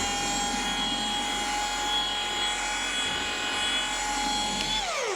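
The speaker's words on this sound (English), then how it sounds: "I'm just going to thin it down with a low speed pass." A machine polisher hums steadily at low speed, making a thin-down pass over paint with polish. The whir stays even and close throughout, then spins down at the end.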